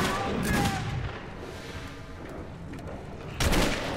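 Gunfire in the first-person shooter Metro 2033, rapid rattling bursts with heavy booming shots at the start and again near the end, loud and close with a dense rumbling underneath.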